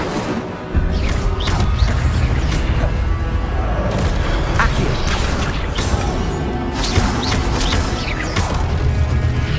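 Incendio fire spells cast in Hogwarts Legacy burst out as whooshing flares and crackling impacts with mechanical clatter, loud and busy throughout, no talk.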